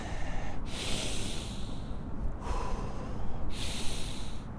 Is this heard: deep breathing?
yes